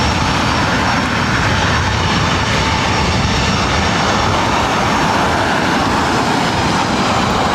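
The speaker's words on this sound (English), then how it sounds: "This is United Express 4633 coming in from Boise on a CRJ 700 ER." A United Express CRJ 700 ER jet airliner arriving at LAX roars steadily and loudly, a dense unbroken engine rumble and rush lasting throughout without any talking.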